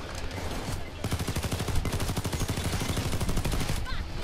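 Rapid automatic gunfire rattles in dense bursts during a heist shootout in the video game Payday 2, loud and continuous through most of the stretch, with faint background noise.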